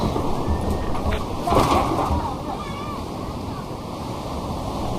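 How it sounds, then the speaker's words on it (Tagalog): Large ocean waves surging near the shore, a continuous loud wash of surf with wind buffeting the microphone and a brief crest of louder breaking water partway through. "ang lalaki ng alon"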